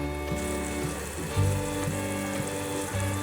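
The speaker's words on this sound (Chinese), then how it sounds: "把有机三色豆先稍微炒软" Organic mixed vegetables, a three-colour bean mix, stir-fried in a pan to soften in a vegan taro dish, with a steady close sizzle and occasional scraping stirs.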